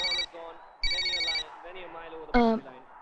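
A cordless telephone in a home rings in repeated electronic bursts, fairly close, while people talk over and between the rings.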